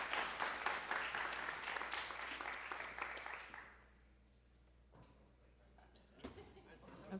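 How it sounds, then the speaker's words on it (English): An audience at a school board candidate panel seminar gives a round of applause that rings out for a few seconds, then thins and dies away into a quiet room with a few faint knocks and shuffles. "Would you all join me in a round of applause for all of those answers?"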